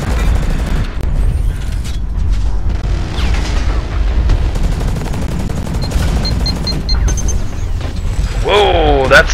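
A puck mine explodes in the mech combat game Hawken amid continuous loud gunfire and booming blasts, a heavy, sustained battle din with bright electronic effects near the end.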